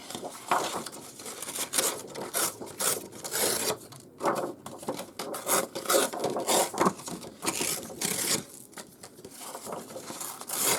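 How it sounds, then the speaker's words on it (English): Paper is torn into strips for decoupage, with repeated close, crisp ripping bursts in an irregular rhythm and brief pauses between tears, without any talk. "Just rip some strips."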